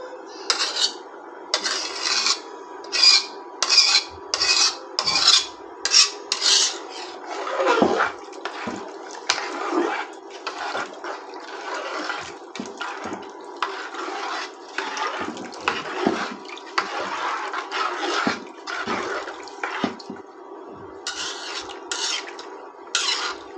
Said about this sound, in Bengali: মাংসটা দেওয়া হয়েছে এখন একটু নেড়ে দেই